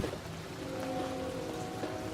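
Steady spring rain in Oklahoma pours down as a dense, continuous hiss of drops on surfaces, with a faint low hum running underneath.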